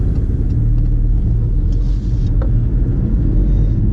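Porsche 911 Carrera 2S being driven on the road, a loud steady low engine rumble heard from inside the cabin, continuous and even with no talk.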